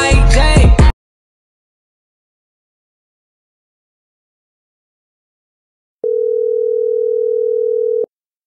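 A phone call rings out after a short burst of voice: one steady, sustained ringing tone lasting about two seconds, alone and clear, following a stretch of silence.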